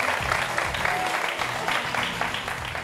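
A studio audience on a French talk show claps for a guest, dense steady applause throughout with voices mixed in underneath.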